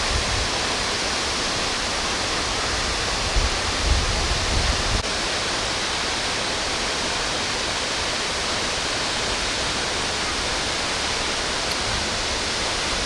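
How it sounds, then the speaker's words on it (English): Tayicsua waterfall on the Bolaven Plateau roars steadily at the end of the rainy season, loud unbroken rushing water close by with no voices. "this is the main waterfall that everybody comes to see"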